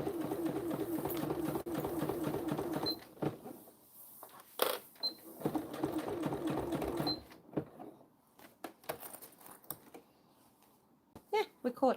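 A sewing machine stitching a second seam around a vinyl zippered pouch, rapid mechanical runs in two bursts with a pause between, a pigeon cooing nearby and scattered handling clicks as it stops.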